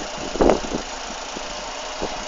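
Cold Renault Megane 1.6 engine idling with the bonnet open in a car park, a steady mid-pitched idle with a few soft knocks and clatters, one louder burst near the start, close and alone.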